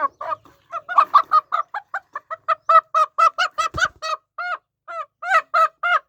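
A sick hen with a sore above one eye, kept apart from the flock, clucks close up in a fast, uneven series of short repeated calls with brief pauses between bursts.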